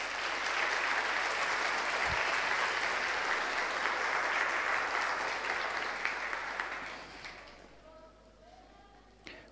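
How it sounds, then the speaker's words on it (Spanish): A church congregation applauds during a Spanish-language sermon, steady dense clapping for about seven seconds that fades out, leaving near quiet at the end. "¿Por qué no le da un aplauso a Cristo por eso?"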